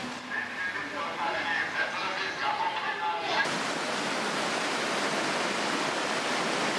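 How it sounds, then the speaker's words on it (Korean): Valley stream water flowing in Borjomi National Park, Georgia, a steady, full rushing wash that grows denser and louder midway, with faint voices faintly present in the first half. "시원하게 흐르는 계곡의 물소리를 들으며"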